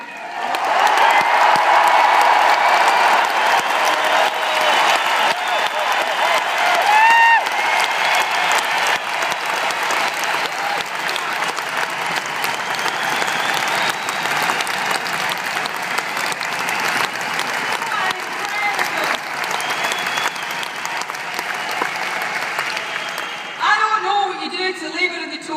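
A crowd of 12,000 in an indoor arena at a political rally applauds and cheers continuously, a loud, dense wall of clapping and shouting that holds steady before tapering near the end.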